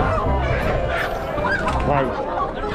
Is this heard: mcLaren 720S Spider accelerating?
no